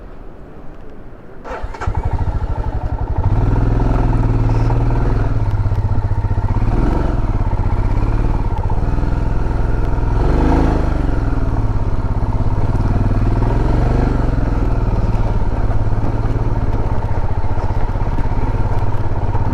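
Motorcycle on a steep, rough mountain road near Dronagiri village starts up with a clattering crank, then settles into a loud, close, steady engine note with occasional revving swells.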